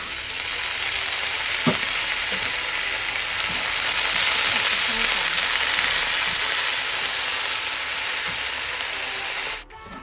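Mixed vegetables and mushrooms stir-fried in a pan with oyster sauce, sugar and fish sauce produce a loud, continuous sizzle with occasional utensil scrapes, cutting off abruptly near the end.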